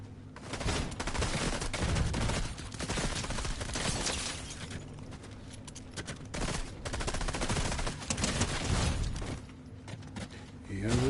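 Rapid bursts of gunfire rattle through a shooter-style Easter hunt game, dense fusillades with mechanical clicks, mixed with someone talking over the shots.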